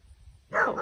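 A single dog bark bursts out close and loud after a low rumbling background, short and alone with no talk, at a homestead keeping Nigerian Dwarf goats.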